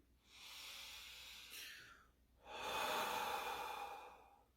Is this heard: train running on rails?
no